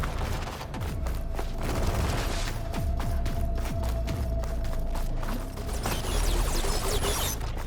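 Enemy machine firing in Horizon Forbidden West: a dense barrage of sharp shots and mechanical clatter with deep booms, loud and continuous over a steady game soundscape, no talk.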